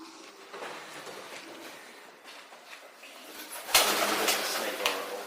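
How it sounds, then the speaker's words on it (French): Pigeons coo softly inside a huge abandoned shopping centre, heard faintly against a hollow, noisy room tone, with a louder rustling burst near the end. "Il y a quelques pigeons."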